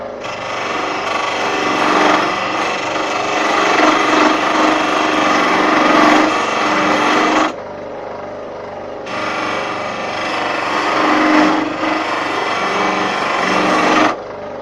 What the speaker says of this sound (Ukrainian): Для того я буду використовувати, не знаю як то, але я буду використовувати долото